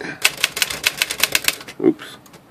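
A Smith Corona Sears Tower typewriter typed at close range, a quick run of sharp clacking key strikes ending in a heavier thump.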